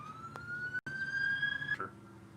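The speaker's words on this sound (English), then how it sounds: "So here comes another siren" An emergency vehicle siren sounds from a nearby road close to a highway, a single rising wail fairly distant and faint, held steady for about a second before cutting off.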